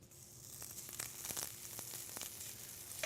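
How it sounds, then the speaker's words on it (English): Butter sizzling in a hot frying pan, a faint steady hiss with scattered small pops and crackles, heard alone. "I'm going to put a little butter in my pan"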